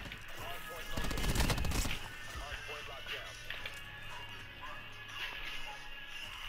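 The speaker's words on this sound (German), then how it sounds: "Was schießen die rum?" A dense burst of automatic gunfire in the shooter Black Ops 4 lasts about a second, loud and close, followed by scattered quieter shots and background game noise.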